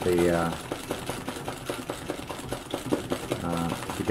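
A sewing machine runs in rapid, steady bursts while free-motion stitching a Christmas tree embroidery, its motor hum and needle clatter close and fairly loud, with a voice talking over it at the start and end.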